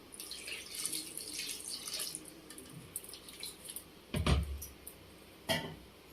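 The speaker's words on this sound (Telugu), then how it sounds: "కొన్ని వాటర్ పోసుకుందాం" Water is poured into a pot of gongura chicken curry, a soft, close trickle and splash with a couple of louder thumps from handling the pot near the end.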